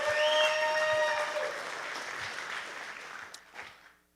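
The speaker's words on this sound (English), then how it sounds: "Quick round of applause for Eddie Ortiz." Audience applause at a live boxing promotion event, dense clapping that starts loud and full, then thins and fades out over about four seconds.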